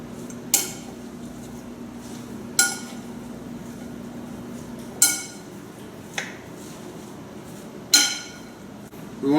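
A radicchio salad with nuts is tossed in a bowl, a utensil striking the rim in four sharp, evenly spaced clinks with quiet rustling between them.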